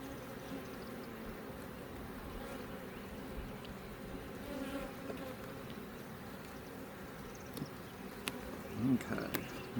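A dense, low buzzing of many honeybees hums steadily around an open hive during inspection, with occasional rustling and frame-handling noises over the bees.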